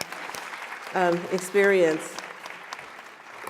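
An audience at a campus teach-in applauds the students, scattered claps crackling faintly under a speaker's voice.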